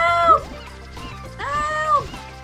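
A cartoonish bird in the video game Heroki squawks loudly twice, each call a warbling, pitch-bending cry, with layered game music and effects underneath.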